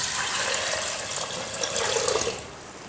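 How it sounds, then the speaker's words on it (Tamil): Water being poured into a pot of green gram for pressure-cooking, a steady close splashing and gushing stream that runs for about two and a half seconds and then eases off, with no talk. "நம்ம தண்ணி கொஞ்சம் அதிகமாக சேர்த்துக்கணும்"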